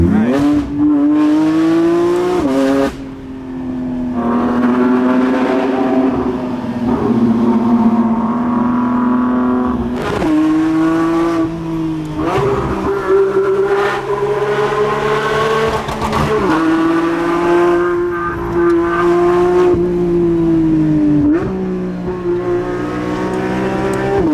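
A Porsche 992 GT3 RS is driven hard on a high mountain road, its engine wailing loudly as it climbs and drops through the revs, with brief breaks between pulls as it shifts.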